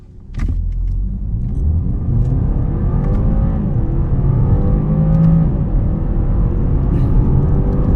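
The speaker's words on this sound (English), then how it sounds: "Let's try the acceleration here." A 2025 BMW 330e accelerating hard, a steady loud engine and motor drone rising in pitch across several seconds, heard from inside the cabin with no talk.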